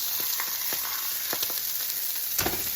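Bangers crackle and sizzle in a frying pan, a continuous close hiss dotted with small sharp pops and spits throughout.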